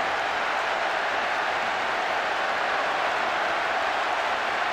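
Broad, steady wash of stadium crowd noise in the PES 6 football game after a goal, a continuous roar and applause at even loudness with no distinct cheers standing out.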